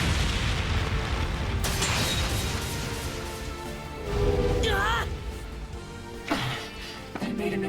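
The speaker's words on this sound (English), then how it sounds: "They made an impromptu flashbang." An improvised flashbang goes off in the Trails Beyond the Horizon video game, a sharp burst and rumbling boom amid loud layered game music and effects, with a couple of smaller impacts following.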